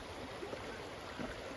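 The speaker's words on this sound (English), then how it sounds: "An absolutely beautiful creek or stream on day 61." A creek on the Pacific Crest Trail flows with a steady, fairly faint rushing wash, continuous with no voices.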